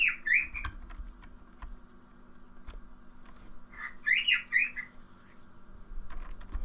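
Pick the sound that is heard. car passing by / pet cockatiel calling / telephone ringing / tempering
pet cockatiel calling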